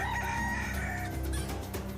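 Chickens cluck and a rooster crows in a neighbour's backyard, the crow rising clearly over a busy bed of clucking, heard fairly close with no voices.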